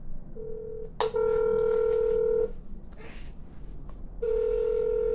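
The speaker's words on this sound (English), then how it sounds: "Oh, they hung up." Electronic telephone tones after a call cuts off: a steady beep, a brief click, a longer sustained tone, a pause, then the tone resumes, loud and close with no talk.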